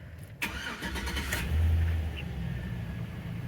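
A Chevy Silverado truck engine, just fitted with a new oil pressure sensor, cranks briefly and catches, then settles into a steady close idle with a low rumble and no talk.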